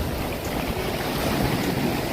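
Strong ocean waves surge onto a beach in Samar, a loud, steady wash of surf mixed with wind buffeting the microphone, without voices.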